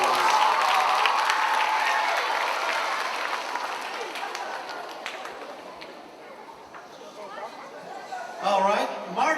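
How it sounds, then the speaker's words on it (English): An audience applauds at a Mardi Gras themed show, a loud sustained wash of clapping that gradually fades, followed by a brief renewed burst near the end. "Let's give Choco a big round of applause"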